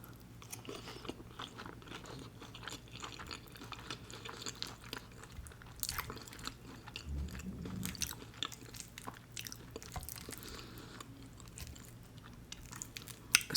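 Crunchy chili cheese onion rings being eaten up close, a run of crisp bites and steady chewing crunches, quiet but close to the mic, with no talking.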